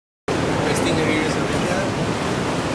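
Ocean waves surge below a cliff-edge villa in Bali, heard from beside an infinity pool as a loud, continuous rushing wash with wind noise, starting abruptly after a moment of silence.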